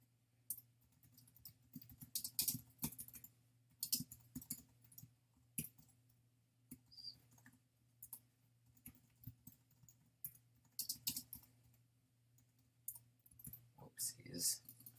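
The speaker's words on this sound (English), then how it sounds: "So follow me as I type." Keys clatter in irregular bursts of close, quiet clicks at a computer keyboard while scripting in Roblox Studio, with pauses between runs of typing and a faint electrical hum beneath.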